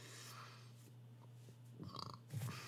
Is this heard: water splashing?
no